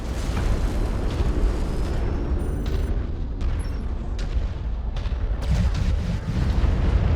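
An LRM missile barrage from a fire support mech in MechWarrior 5 lands as loud, continuous rumbling explosions. The deep booms overlap without pause, with a few sharper cracks and whines on top.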